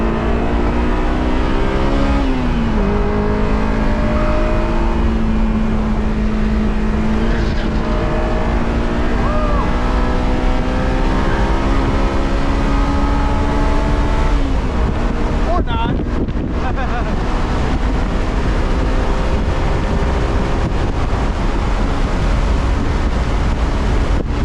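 2001 Honda S2000 on track at Grattan Raceway, its engine droning and shifting pitch through gear changes, heard from inside the car under heavy, constant wind buffeting and road roar.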